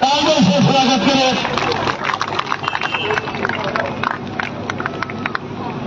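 At an election campaign rally welcoming a candidate, a crowd claps in a quick, dense burst that settles into scattered claps over busy crowd chatter and talk.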